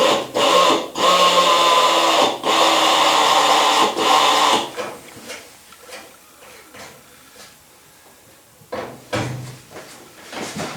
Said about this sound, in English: usually I finish drilling them out.